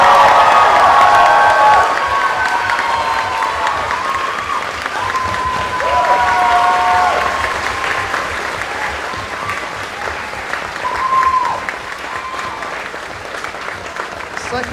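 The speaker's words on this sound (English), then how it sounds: "Can you give our guests a round of applause" A large convention crowd at Summer of Sonic 2013 applauds and cheers for guests, loud sustained clapping with whoops and high shouts on top that slowly eases off, with a few voices calling out through it.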